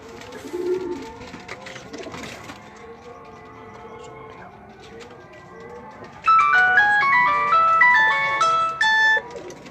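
Pigeons coo in soft, low repeated calls alongside other birds, with a burst of bright tonal electronic notes later and brief speech in the background.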